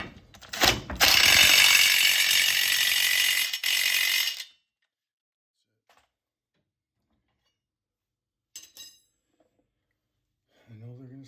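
Impact wrench working on a SeaDoo 130/155 GTI jet pump during pump removal, a loud rattling burst of about three seconds, then quiet with a few faint clicks and a brief voice near the end.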